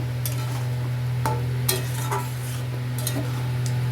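Paneer cubes frying and being stirred in a pan for vegetarian chili paneer, a steady sizzle under a constant low hum, with several sharp scraping clicks of the spoon against the pan.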